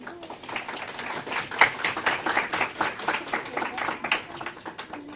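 Audience clapping in a steady, moderate round of applause, fairly close and continuous across the stretch, with uneven individual claps.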